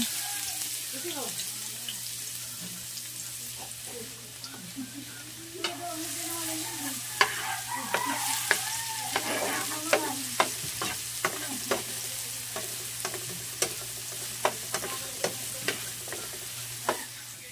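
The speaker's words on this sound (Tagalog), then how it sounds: "pilalagay ko na yung sibuyas at bawang." Onion and garlic frying in a pan for chicken adobo, a steady sizzle with repeated sharp scraping and stirring clicks of a utensil, and some movement and faint voice in the background.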